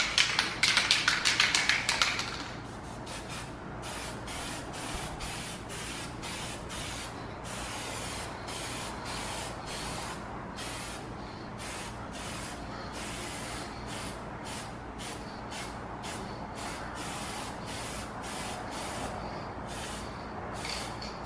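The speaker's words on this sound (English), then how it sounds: "I'm going to go over and I'm applying this base coat" Spray gun laying flame red base coat onto a car body in a shop, a loud burst of hissing spray at the start followed by a long series of regular short hissing pulses over a steady background hum, with no talking.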